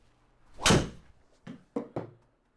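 A TaylorMade SIM driver strikes a golf ball with one sharp, loud thwack, trailed by a few softer knocks or thuds a moment later, with no talking.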